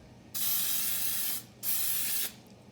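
Two sustained bursts of cooking spray hissing close up into a baking pan, each about a second long, separated by a short pause.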